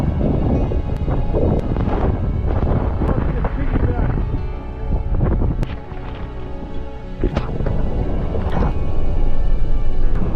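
Gusting wind of a heavy snowstorm buffets the microphone in loud, uneven bursts, with occasional sharp knocks and a voice talking intermittently underneath.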